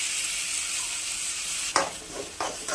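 A steady frying sizzle of onions, then a sudden louder burst of hissing as ground tomato paste hits the hot pan, followed by stirring.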